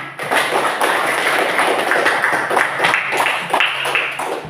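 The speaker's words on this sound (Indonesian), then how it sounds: "Oke, tepuk tangan." A seventh-grade class applauding in a classroom, steady overlapping hand claps from many students, fairly loud and close, sustained for several seconds.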